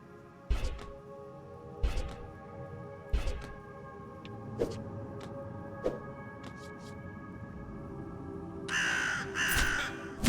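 Crows cawing as a card effect in a digital card game, several loud harsh caws spaced out over a steady low background hum, ending with a brighter burst of game sound; no talking.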